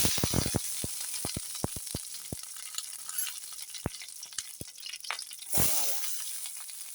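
Curry leaves hit hot oil with mustard seeds and green chilli for a corn upma. A steady hiss runs throughout, broken by sharp popping clicks, and a louder sizzling burst swells near the end.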